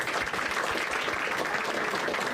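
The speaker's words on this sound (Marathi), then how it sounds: "एकदा टाळ्या वाजवा दोघांसाठी" Audience applause at a Marathi stand-up comedy show, a dense steady clatter of many hands clapping through the whole stretch with no pause, fairly loud and close, with no talk over it.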